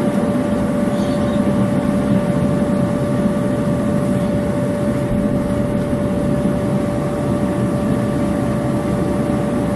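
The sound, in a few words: cheap air blower feeding a backyard metal casting furnace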